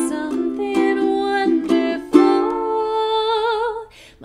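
Several quick ukulele strums with sharp attacks, then a chord left ringing and slowly fading, played alone and close.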